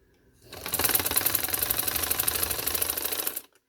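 A sewing machine stitches piping onto fabric in one continuous run of fast, rattling stitches lasting about three seconds, close and loud, starting and stopping abruptly with no talk.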